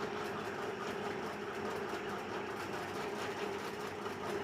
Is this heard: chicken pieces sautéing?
no